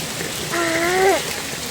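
Heavy rain pours steadily around a parked auto rickshaw in a crowded parking area, a dense, even hiss throughout, with a brief tonal, horn-like sweep rising out of it near the middle.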